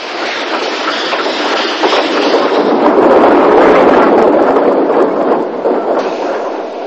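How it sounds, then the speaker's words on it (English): Narrow gauge steam locomotive Hutchinson on the Isle of Man railway, pulling coaches in the 1960s: a loud, steady rolling rumble with wheel clatter and rail noise throughout, no voices. "Hutchinson again collecting yet another coach to add to her train."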